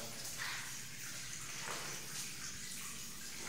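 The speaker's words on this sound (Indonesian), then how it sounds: "kita siram dengan air, kemudian kita dorong airnya biar debu-debunya bisa" Water splashed across the floor while cleaning the inside of a swiftlet house, a faint, steady hiss and rush of flowing, splashing water, continuous and somewhat distant.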